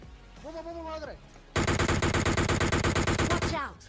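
Sustained automatic gunfire from a machine gun in PUBG Mobile, a rapid, steady burst of loud shots lasting about two seconds, preceded by a short voice.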